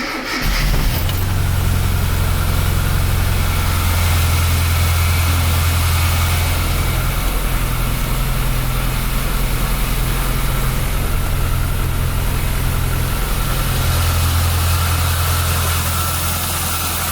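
A 1994 Mini Cooper SPi 1.3 fires up from cold on a chilly winter day and settles into a steady, loud, close idle with a low rumbling throb throughout.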